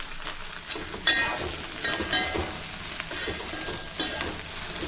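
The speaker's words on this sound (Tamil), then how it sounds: "அனல் கம்மியாக வச்சு இதை நம்ம வதக்கி எடுத்துக்கணும்" Okra (ladies finger) sautés over low heat in a pan with a steady, close sizzle, punctuated by several distinct stirring scrapes and taps of a spoon; there is no talking.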